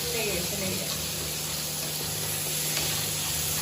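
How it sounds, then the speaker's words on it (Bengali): Paneer pieces frying lightly in a nonstick pan over a Bengali home stove, giving a steady low sizzle with faint stirring scrapes, mixed with a constant hum and some background speech. "পনিরগুলো আমি হালকা করে ফ্রাই করে নিয়েছি, এবার তুলে নিই।"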